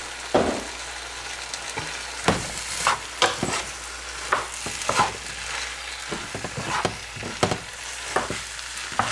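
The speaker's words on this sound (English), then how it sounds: "just put in a little bit more oil to help it coat the rice" Vegetable fried rice sizzling in oil in a pan, a continuous close hiss broken by frequent sharp scrapes and stirring clatters of the spatula, with no voice.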